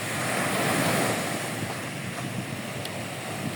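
Sea waves wash and roar continuously while strong wind buffets the microphone, a dense, loud rush with no voices, in Sipalay City.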